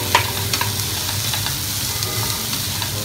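Mixed vegetables sautéing in a pan before baking give a steady, close sizzle and crackle, with occasional spoon-stirring scrapes throughout and no talking.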